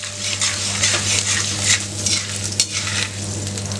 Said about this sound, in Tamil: பாருங்க, இந்த அளவுக்கு நல்லா பொரிஞ்சிருச்சு.